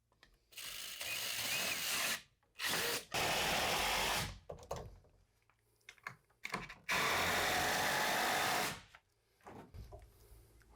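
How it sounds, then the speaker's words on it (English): A power drill driving screws to join rough-cut half-inch plywood pieces, several loud whirring bursts of a few seconds each separated by quiet gaps. "Now I am going to be screwing that together."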